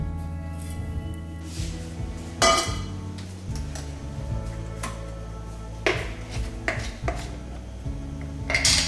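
A frying pan for pancakes being handled and set up on the stove, with close metallic clanks, clinks and knocks of cookware in irregular bursts over a steady low background, no talking.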